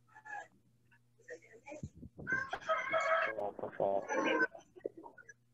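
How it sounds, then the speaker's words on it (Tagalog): Rooster crowing with chickens clucking nearby, a full cock-a-doodle-doo sounding fairly close, faint but clear, while a person speaks briefly over an online class call. "Yung mga manok nyo nagigising na ha?"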